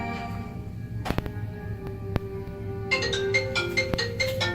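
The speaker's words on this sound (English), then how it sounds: "whose phone is that?" A phone ringtone chimes in a repeating tonal pattern at a rowdy house party in the comedy film Cracked Up, rising over a steady background hum with a few sharp clicks.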